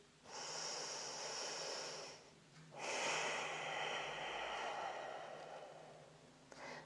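Slow, deep yoga breathing close to the microphone: a long airy breath of about two seconds, a brief pause, then another long breath, soft and steady with no talking.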